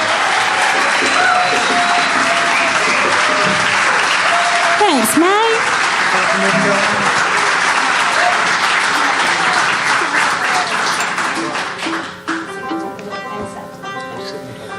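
An audience at a live country music set gives a long round of applause for a singer, loud and sustained with whoops and whistles, then fading as someone briefly speaks and instruments start up.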